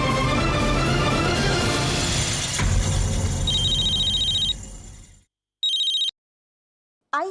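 A mobile phone rings in short electronic bursts over a noisy background, then cuts off into silence before another brief ring.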